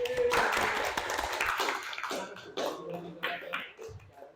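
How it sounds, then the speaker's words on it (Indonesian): A classroom of students clapping for a classmate, brief uneven applause that starts fairly full and thins into scattered claps, with some voices murmuring as it dies away. "tepuk tangan untuk Bima"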